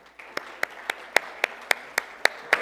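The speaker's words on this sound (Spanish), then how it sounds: "Karen Herrera Ferrá, a quien pido recibamos con un aplauso" Slow, sparse clapping at a conference, about nine sharp claps at a steady rhythm. It sounds like a small group or a single person rather than a full crowd.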